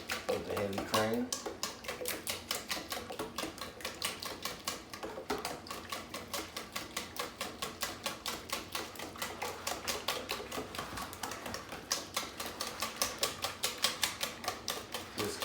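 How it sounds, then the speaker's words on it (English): A whisk beats eggs and heavy cream in a bowl for quiche, a fast steady rhythmic clatter against the bowl that runs on continuously and close. "mix those eggs right on in there with the heavy cream"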